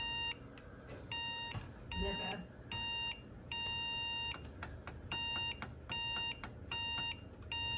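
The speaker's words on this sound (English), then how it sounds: "Three short, one long means memory boot RAM error." A Lenovo Legion T5 desktop PC motherboard sounds a POST beep code for a RAM error: sharp electronic beeps in a repeating pattern of short and longer tones, loud and close, with faint rustling underneath.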